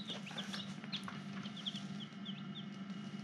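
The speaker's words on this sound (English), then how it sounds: "nine little chickens so far" Newly hatched chicks in an incubator give repeated short, high peeps, close and fairly clear over a constant low mechanical hum.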